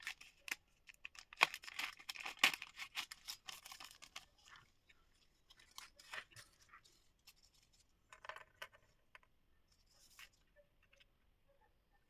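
Crinkling and tearing of packaging as old Scale Auto Style scale model products are opened, a busy burst of rustles and rips at first, then scattered quieter handling sounds, no talk.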